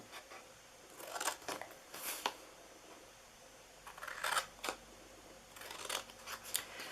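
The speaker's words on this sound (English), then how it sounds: "we're going to cut in to that first score mark" Scissors cutting paper along score marks, giving faint, close snips in small clusters with quiet gaps between them.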